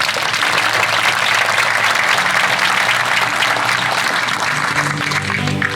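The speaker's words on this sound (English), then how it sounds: "Please give our volunteers a round of applause." Loud, sustained applause from the audience at a city's State of the City address for its volunteers, many hands clapping evenly with no speech.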